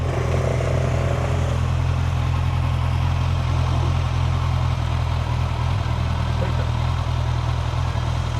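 A Harley-Davidson motorcycle idles close by, its engine producing a loud, steady low rumble that runs unbroken for the whole stretch.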